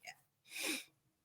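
A single short sneeze bursts out faintly, close but quiet, in a pause between stretches of conversation.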